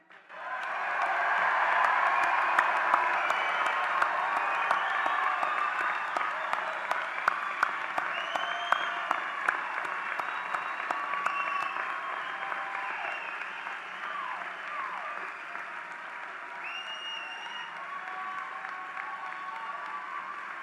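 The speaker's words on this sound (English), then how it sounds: "congratulate and honor the graduates with one final loud round of applause" Sustained applause from a large commencement audience honoring pharmacy graduates at the University of Illinois Chicago, a dense steady roar of clapping that begins abruptly, holds strong, then eases slightly while continuing to the end.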